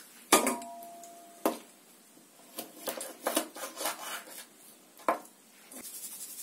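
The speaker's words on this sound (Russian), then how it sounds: "Крылышки разрезаем на фаланги" Chicken wings being cut into sections for honey soy wings, a series of close, sharp snips and cracks through joint and bone on a board, irregular and clustered, with quiet handling between cuts.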